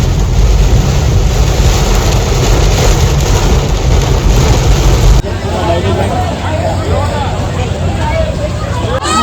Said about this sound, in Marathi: जोरात पाऊस आलाय यार